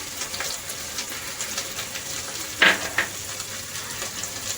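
Beans and carrot frying in a pan give a steady soft sizzle throughout, broken by one sharp knock of a spoon against the pan and a lighter tap just after.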